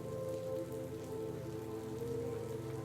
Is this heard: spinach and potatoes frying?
no